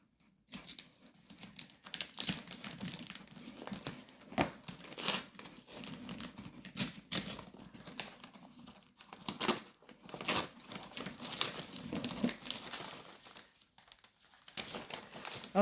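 Crinkling and ripping sounds up close as tape is torn and peeled from a parcel, in irregular bursts with short pauses.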